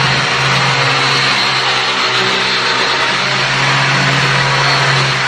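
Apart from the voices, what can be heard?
stone polishing machine polishing granite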